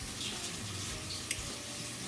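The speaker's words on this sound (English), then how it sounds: "Let me wash my hands." A kitchen tap runs steadily while hands are washed beneath it, a soft continuous splashing hiss at close range with one small clink, and no voices.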